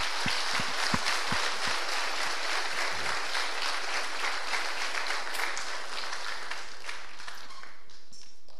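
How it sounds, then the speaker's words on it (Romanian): A church congregation at a church-day service applauds in sustained, dense, steady clapping that fills the room at an even level throughout, with a few sharper claps near the start. "uite că te vom aplauda toți din biserică"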